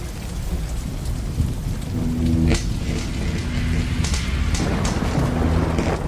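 Steady heavy rain pours down beside a tomb, with rolling thunder rumbling through it in a dark sci-fi animated film, continuous and close, with no voices.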